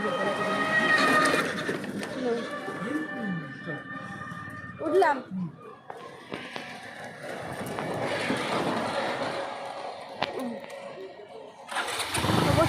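A motorcycle engine starts and settles into a rough, throbbing idle, with voices and outdoor noise around it.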